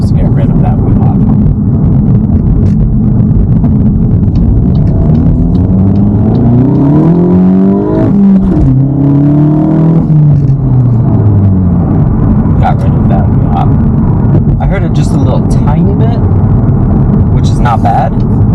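A VW Mk8 GTI engine fitted with an APR pendulum mount revs up and back down in a rising and falling sweep, loud and close, with cabin rumble throughout.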